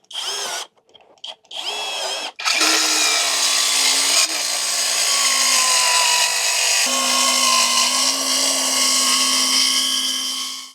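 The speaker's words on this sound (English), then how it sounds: "I'm pre-drilling about 2 or 3 holes" A power drill whirs continuously while pre-drilling holes in timber, loud and close, after a few short start-stop bursts at the beginning, then a long sustained high whine.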